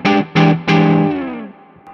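An electric guitar on its neck pickup through a Browne Protein amp strikes three quick chords, the last left to ring and decay, with a touch of breakup and light reverb.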